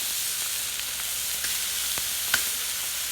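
Shrimp sizzling in a very hot hibachi pan: a steady, loud, close frying hiss with a few small pops and crackles scattered through it, no voices.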